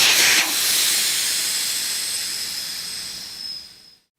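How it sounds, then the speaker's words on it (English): Steady loud hiss of air escaping a tire as the valve stem core is removed, strongest at the start, then gradually fading before stopping abruptly after about four seconds. "release all the air pressure by removing the valve stem core"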